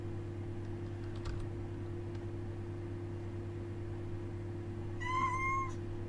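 A pet cat gives one clear, near meow near the end, over a steady electrical hum and a few faint keyboard taps.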